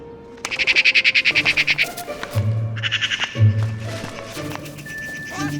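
Crows and magpies squawking while fighting over a carcass: rapid rattling chatter bursts, harsh calls and a few sharper cries, close and loud, with no talk.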